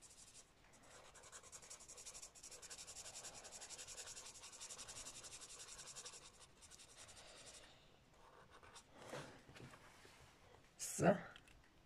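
Pencil colouring in a lollipop on paper: a continuous soft scratchy rubbing of strokes, fairly faint and steady, pausing near the end with a few louder brushes and a brief handling noise, with a voice speaking over parts of it.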